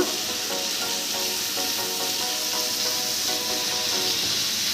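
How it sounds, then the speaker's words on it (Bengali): Tomato paste sizzles and fries steadily in a hot pan while being cooked down for a Bengali pabda fish curry with mustard and poppy seed, a close, continuous hiss with faint stirring scrapes and no talking. "এই টমেটো পেস্টটাও দিয়ে দিচ্ছি। ভালো করে এটাকে একটু কষিয়ে নেব।"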